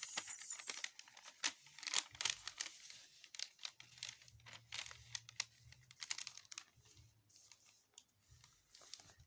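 A sheet of paper is folded and creased by hand, with crisp crinkles, scrapes and taps in irregular bursts up close, and a faint low hum partway through.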